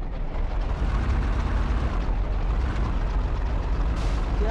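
A tank cannon blast in PUBG fills the clip with a dense, loud rumbling roar of explosion and debris that sustains across its length, with a sharper burst near the end and no talking.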